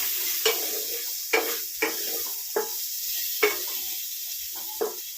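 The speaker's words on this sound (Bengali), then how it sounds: "আর উচ্ছে ভাজা চলছে এখানে।" Bitter gourd slices frying in a pan, with a constant close sizzle broken by about seven sharp spatula scrapes and stirring strokes at uneven intervals. No one speaks.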